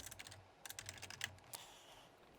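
Fingers tap quietly on a computer keyboard in short bursts of keystrokes, close and faint, with no voices over it.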